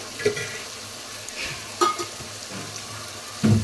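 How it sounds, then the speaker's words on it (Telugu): A spoonful of ginger garlic paste sizzles in a frying pan, a soft steady hiss broken by three louder scrapes or clinks of the spoon; no voices. "1 స్పూన్తో అల్లం వెల్లుల్లి పేస్ట్ అయితే వేస్తున్నాను"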